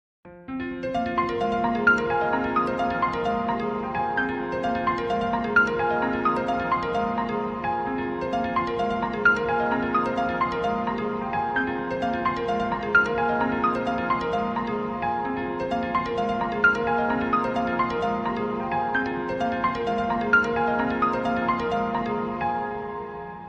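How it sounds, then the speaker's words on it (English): A piano plays a flowing melody with full chords, each note ringing clearly in an even rhythm. The playing is loud and steady throughout, with no voices. "Take a listen to this beautiful piano."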